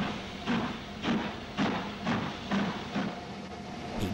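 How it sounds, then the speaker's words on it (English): A British Railways Q1 steam locomotive raises steam and pulls forward, with a steady hiss under about eight rhythmic, loud piston chuffs spaced roughly half a second apart, close by. "raising steam and pumping pistons, Oliver moved over to the train."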